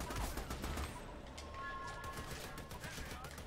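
Rapid gunfire from a first-person shooter video game crackles in dense, overlapping bursts at moderate level against a busy background of game sounds.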